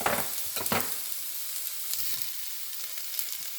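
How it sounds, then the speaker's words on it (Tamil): Red and yellow peppers hit a hot pan for prawn fried rice, giving a soft sizzle with a few quick stirring scrapes near the start, then a steady faint frying hiss. "சிவப்பு மிளகாய் மஞ்சள் மிளகாயும் போடுறேன்"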